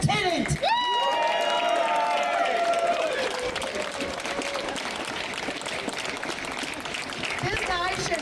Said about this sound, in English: give me a big round of applause for Sean Brandt, the tenant